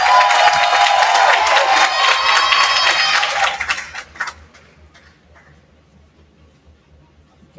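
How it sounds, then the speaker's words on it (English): An audience at a Hillcrest Christian Cougars recognition event applauds a student, with steady, dense clapping for about four seconds that then quickly fades to near silence. "Let's give him a round of applause"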